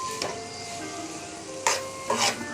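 Beetroot honey chicken with capsicum and soy sauce sizzles softly in a pan, broken by three quick scraping stirs of a spoon.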